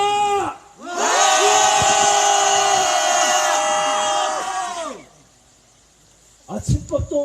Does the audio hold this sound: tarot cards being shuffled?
no